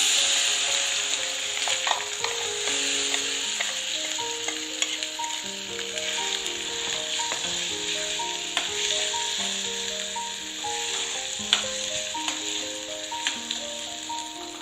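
Ground onion tomato chutney, added to a tempering with curry leaves and asafoetida, sizzles steadily in a pan under a sustained hiss, with light rattling and scraping from stirring and a background of tonal music.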